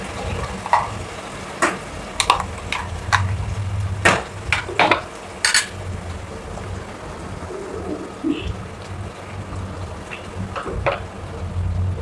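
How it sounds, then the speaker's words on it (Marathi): A paste of ginger, garlic, green chili and coriander frying in hot oil, with a steady crackling sizzle throughout. Sharp clicks of a spoon stirring against the pan break in at intervals, loud and close. "आता या तेलामध्ये आपण तेल तापलेलं आहे, यामध्ये हे आलं, लसूण, हिरवी मिरची, कोथिंबीर याचं मी वाटण घालून घेते आहे"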